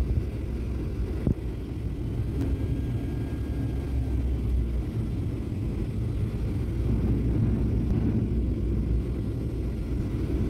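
Airliner landing on the runway at Hyderabad airport: a steady, loud low-frequency roar and rumble of engines and wheels throughout, with a brief thump near the start.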